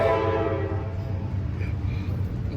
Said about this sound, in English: we live by Thomas the Train